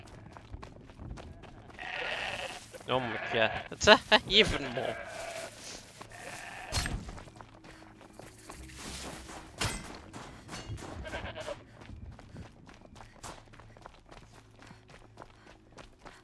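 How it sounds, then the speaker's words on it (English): Goats bleating in the video game Horizon Zero Dawn: Frozen Wilds, several wavering bleats clustered early then scattered among footsteps and game ambience, with a player talking over them. "Oh my god, so many fucking goats here."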